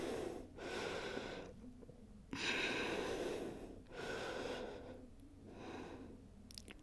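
Slow, deep yoga breaths in a headstand, long audible inhales and exhales alternating in a steady rhythm, close and fairly soft, with no talking.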